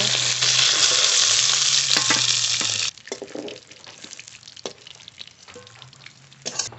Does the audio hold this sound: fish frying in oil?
yes